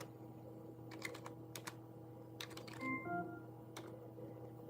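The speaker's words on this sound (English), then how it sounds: "I don't want to leave you guys sitting here with nothing but just typing noises" Someone types on a computer keyboard in short bursts of sharp clicks with pauses between, quiet against a faint background hum.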